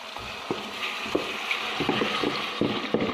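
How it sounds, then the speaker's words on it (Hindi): Lentils tipped into a pot of fried chicken and masala, with scattered soft thuds and scraping stirs over a steady frying hiss, no voices. "अब इसके अंदर हम दाल ऐड करेंगे"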